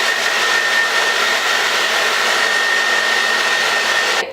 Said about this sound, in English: you can speed it up using a hairdryer